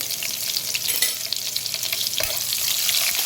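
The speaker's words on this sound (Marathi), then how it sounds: "हे छान असं थोडं परतून घ्यायचं" Curry leaves and slit green chillies fry in hot oil in a pan while cooking banana flower sabzi, a continuous close sizzle with light stirring scrapes and no talking.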